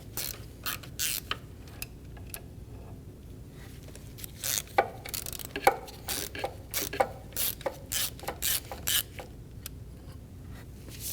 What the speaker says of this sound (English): Using a 10mm triple square, we're going to remove the 2 bolts for the bracket